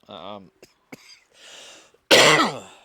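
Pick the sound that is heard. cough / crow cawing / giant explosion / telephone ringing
cough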